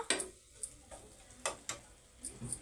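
A spoon stirs mutton keema with kasuri methi in a pan, giving quiet scattered taps and scrapes with a soft sizzle underneath and no talking.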